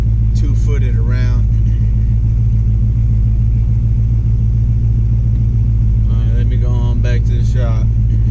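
A 1984 shortbed truck with a turbo 375 transmission idles on its own, a loud, close, steady low rumble throughout, with someone talking over it at the start and near the end.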